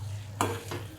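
A spoon stirs dry mutton frying in a pan, two brief scraping strokes over a soft, steady sizzle.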